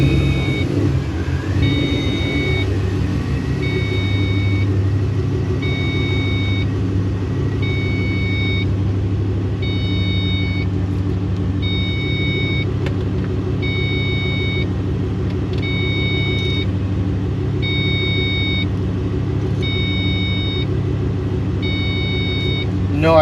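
A procharged Ford Mustang GT engine rumbles steadily on a test drive, heard from inside the car as a constant low drone, with a repeating electronic beep chiming over it throughout.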